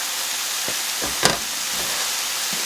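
Mushrooms with minced garlic sizzle steadily in a hot pan, a constant dense hiss broken by a few clinks and a sharp scrape of stirring.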